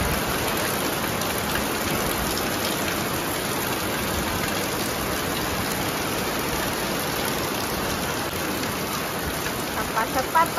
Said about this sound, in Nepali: खत्रै पानी परेको छ बाहिर चाहिँ है